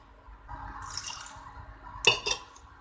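Water pours into a metal cooking pot up close, a soft splashing stream over goat intestines for pressure cooking, followed by a brief louder splash and clink near the end.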